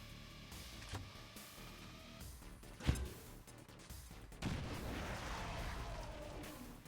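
A grenade goes off in XCOM 2: War of the Chosen, a sharp muffled blast near the middle of a few seconds of faint combat rumble, followed by a rougher burst of crackling debris and fire.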